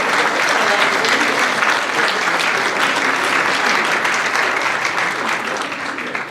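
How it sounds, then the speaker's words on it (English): Audience applause at a GOP central committee meeting, a sustained, dense round of clapping from a roomful of people that holds steady and tapers slightly at the end. "Applause for those who are putting this together."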